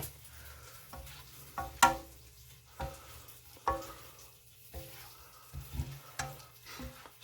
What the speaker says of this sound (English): Right now I'm frying my sausage